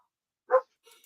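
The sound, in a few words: dog barking in the background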